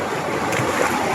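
Fast-flowing river water rushes past rocks at a hidden stream near Pollachi in the Anaimalai area, a loud and steady broadband roar with no speech.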